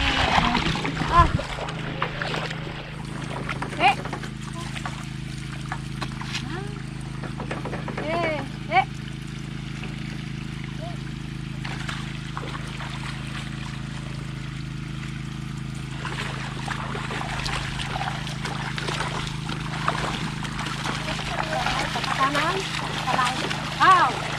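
Irrigation water flowing and splashing across a farm field in Occidental Mindoro, a steady wash with occasional louder splashes under a continuous low engine-like hum, with people talking and calling out nearby.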